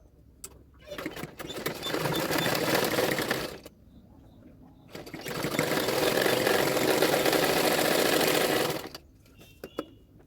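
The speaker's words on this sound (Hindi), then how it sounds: "अब उसको इस तरह से फोल्ड करते हुए और एक सिलाई डाल दूंगी।" A sewing machine stitching the lining fabric of a princess-cut blouse: two sustained whirring runs, the first about two seconds and the second about four, separated by quiet handling clicks.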